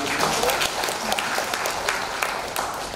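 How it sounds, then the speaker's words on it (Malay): Audience applause at an MoU signing ceremony as a newly appointed chief executive is introduced, with many hands clapping steadily and loudly from start to finish in an unbroken, dense wash. "Kita berikan tepukan"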